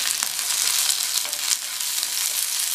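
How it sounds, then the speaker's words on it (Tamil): Onion, garlic and curry leaves frying in a pan for a chana dal chutney, giving a steady close hiss and crackle that runs without a break and with no voices. "இப்போ வெங்காயத்தையும் பூண்டையும் ஓரளவு வதக்கிக்கலாம்."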